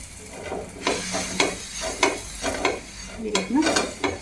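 Garlic chutney for vada pav cooking in a pan, with a low sizzle under a series of spaced stirring scrapes that come about every half second, close and unaccompanied by talk.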